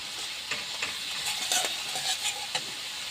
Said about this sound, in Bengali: এভাবে আমি মশলাটা একটু ভালো করে কষে নিচ্ছি।